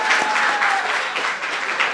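An audience claps to close a presentation at the NYC Space Apps 2018 project demos and judging, a sustained round of clapping that swells and dips slightly throughout.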